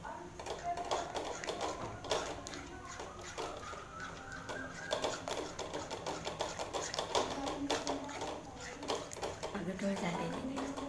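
Thickening gram-flour batter is stirred nonstop in a pan, with rapid, close taps and scrapes of the spoon against the metal continuing throughout while someone talks over it.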